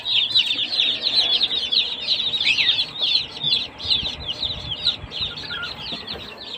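Crowded 45-day-old chicks chirping, a dense, continuous chorus of high peeping calls close by with no talk.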